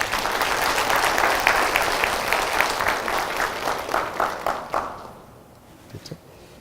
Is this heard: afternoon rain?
no